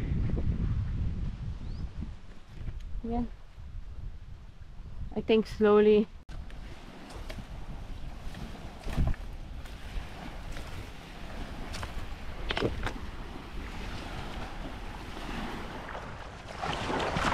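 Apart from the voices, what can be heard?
sea waves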